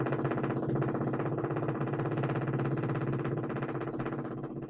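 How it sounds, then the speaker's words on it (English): A steady, rapid mechanical pounding of jackhammer drilling directly behind a studio door, muffled and continuous at moderate loudness, heard through the door. "They are jackhammering directly behind this door."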